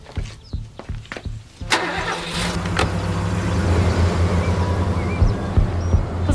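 A car engine cranks and catches after a few clunks and thuds, then settles into a steady, rising idle and rev as the vehicle pulls away, close and fairly loud with no speech.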